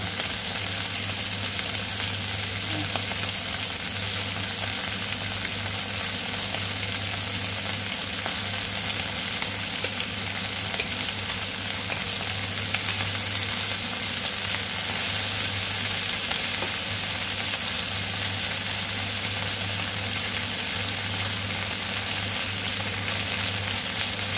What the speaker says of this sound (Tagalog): Talsik-talsik yung mantika.